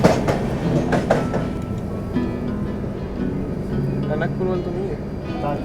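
The Swarna Shatabdi Express pulling into Ghaziabad station, with a continuous loud rumble of rolling coaches, rhythmic wheel clatter and faint tonal squeals, and voices mixed in underneath.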